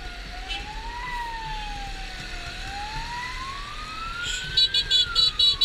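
An ambulance siren wails steadily throughout, its pitch sweeping slowly up and down, heard from a motorcycle trailing close behind it amid traffic rumble, with a few sharp higher tones near the end.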